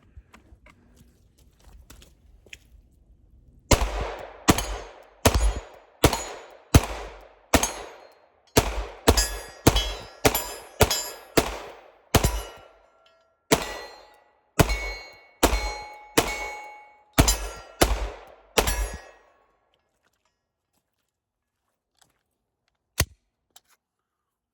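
A Glock 19X 9mm pistol fed from a 20-round Magpul magazine fires a long string of sharp, loud single shots at a steady pace outdoors, followed by a quiet stretch and one last isolated shot.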